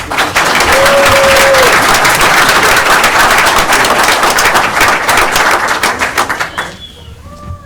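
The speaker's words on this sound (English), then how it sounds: "So I give a round of applause for Mike" Sustained audience applause at a borough council reorganization meeting following a swearing-in, loud and dense for about six seconds before tapering off quickly into quiet room sound.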